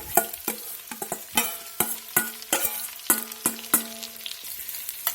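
Onions sizzling in butter and a little olive oil in a pan over medium to medium-high heat, with repeated sharp stirring clatters and scrapes punctuating a steady fry, close and fairly loud, no talking.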